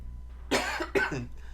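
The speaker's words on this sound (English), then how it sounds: "Sorry for my cough." A person gives two quick, dry coughs close to the microphone, a short pause between them, in an otherwise quiet room.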